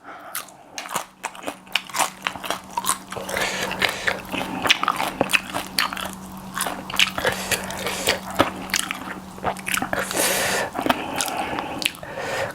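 Crunchy bites and wet chewing of spicy papaya salad served with fried salmon and glass noodles, close and loud, with dense repeated crunches and squishy mouth sounds throughout and no talking.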